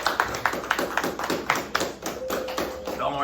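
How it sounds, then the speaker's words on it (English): A small group gives a demo presenter a short round of applause, a few distinct, fairly close claps in an uneven rhythm with voices murmuring alongside. "Let's give her a round of applause."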